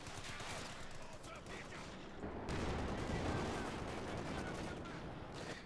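Dense bursts of rifle and machine-gun fire crackle in a war video game, rapid overlapping shots with sharp transients that grow heavier and more sustained midway through.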